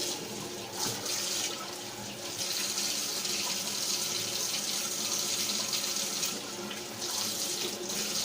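Running tap water splashes steadily into a sink while a cheap kitchen knife is washed under it, a close, continuous rush with slight changes as the blade moves through the stream.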